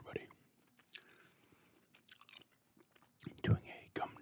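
Gum being chewed close to a microphone in an ASMR setting, with soft wet smacks and small crunches that come in irregular bursts and grow louder toward the end, mostly alone against a quiet background.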